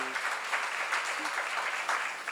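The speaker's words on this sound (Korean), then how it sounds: "박수와 기쁨으로 박수를 보내야지." A seminar audience in a church claps together in a sustained, steady patter of many hands, moderately distant, with a faint voice briefly under it.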